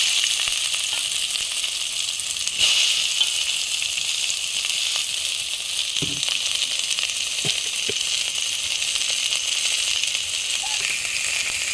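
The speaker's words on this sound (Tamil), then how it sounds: "கொஞ்சம் எண்ணெய் ஊற்றிக்கலாம். இது வெங்காயம் போட்டுக்கலாம்." Onions frying in oil in a pan while cooking mutton paya, a steady bright sizzle with a few soft knocks and clinks, and a person talking now and then over it.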